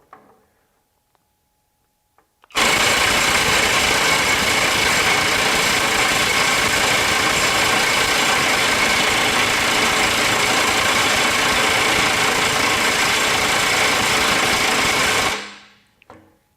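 A Kobalt XTR 24V high-torque impact wrench hammers continuously in speed 2 on a stuck fastener, a loud, dense, rapid rattling that starts abruptly after a quiet lead-in and runs steadily for about thirteen seconds before tapering off.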